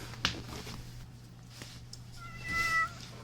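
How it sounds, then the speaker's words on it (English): A pet cat indoors lets out a short, fairly loud meow near the end. Before it come faint rustles and clicks over a steady low electrical hum. "my cat is losing his fucking mind"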